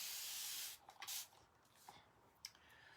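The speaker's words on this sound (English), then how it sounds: "So we're just going to spray this." Spray bottle misting a chalkboard surface: one long steady hiss of spray, followed by a few faint brief rubs and clicks, close and quiet, with no talking.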